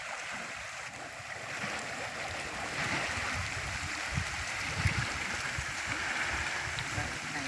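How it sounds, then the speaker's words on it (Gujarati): Steady rushing, rising floodwater flows continuously, a broad unbroken roar like a swollen stream, with faint voices murmuring underneath. "પાણી વધે છે"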